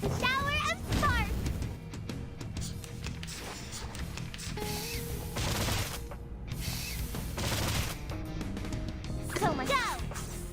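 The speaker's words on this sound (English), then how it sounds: "Fireworks! Shower of sparks!" Fireworks in the Reverse 1999 video game: crackling bursts, whistling rises and popping explosions over background music, with game voices speaking throughout.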